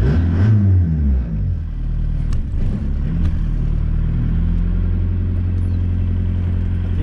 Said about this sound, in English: We have full throttle now. We definitely have no more muffler